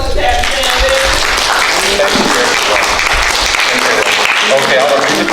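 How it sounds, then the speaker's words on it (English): Crowd applause for Captain Sam at a Gullah/Geechee community event, loud sustained clapping with cheering voices and talk mixed throughout. "One more round of applause to Captain Sam."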